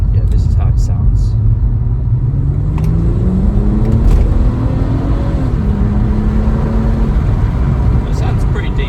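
A 2020 BMW 440i M Sport Gran Coupe, rear-wheel drive, with its 3.0-litre B58 engine and gasoline particulate filter in sport mode, gives a steady close drone that climbs in pitch as it revs, then settles, with a voice talking over it.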